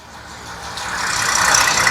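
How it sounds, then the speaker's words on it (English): A tractor drives past outdoors. Its rumbling engine and rattle rise steadily in loudness as it approaches, with no voices over it. "let's wait for the tractor to pass through."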